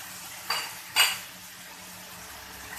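A utensil strikes a pan twice, two distinct clinks about half a second apart, while chicken is being mixed with spices. Afterward a quiet background hangs on with faint stirring.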